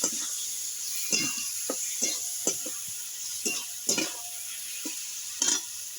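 Mustard paste and potatoes are stirred in a pan for a bitter gourd and small fish curry, with soft sizzling under a series of sharp scraping strokes at uneven intervals, close and fairly loud, with no talk.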